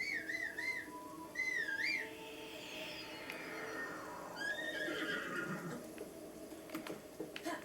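A horse whinnies in a quick warbling call, repeated a few times over a rumbling, noisy soundscape from The Legend of Zelda: Breath of the Wild, with faint hoof clatter.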